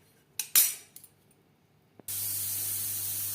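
A pressure cooker cooking dal with turmeric blasts a loud, steady hissing whistle that sets in abruptly and holds, preceded by a few short puffs of escaping steam and faint clinks.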